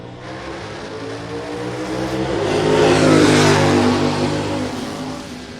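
A loud drag-racing gasser engine roars as the car accelerates hard down the strip at Mt. Olive Dragway, the rumble swelling to a peak mid-clip and then easing slightly as it passes.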